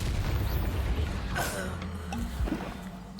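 A Confringo spell blast in the game Hogwarts Legacy, a dense roaring rumble with a sharp burst and crackle in the middle, loud and close amid battle noise.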